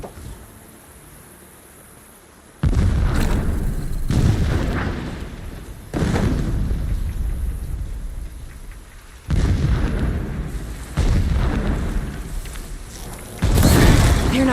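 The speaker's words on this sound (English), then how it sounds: "explosions in the distance" Heavy distant explosions in Horizon Zero Dawn boom out in a series of loud, rumbling blasts, each swelling and fading over a few seconds, with several repeating in an irregular rhythm.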